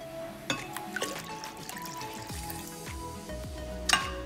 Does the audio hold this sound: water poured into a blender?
yes